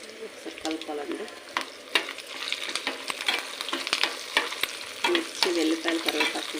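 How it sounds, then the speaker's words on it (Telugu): Dried red chilies, garlic and curry leaves tempering in hot oil for an ivy gourd chutney, a close, bright sizzle punctuated by spatula scrapes and stirring knocks, with no talking. "మిర్చి, వెల్లిపాయలు, కరివేపాకు వేగేంత వరకు పోపు వేసుకోవాలి."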